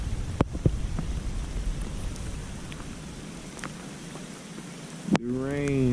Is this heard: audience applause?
no